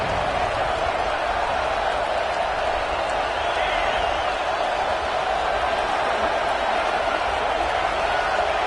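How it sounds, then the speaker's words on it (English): Ole Miss football stadium crowd before a big third down against Nebraska, a steady, dense roar of thousands of fans held at an even level throughout, with an announcer talking over it. "this crowd is ready"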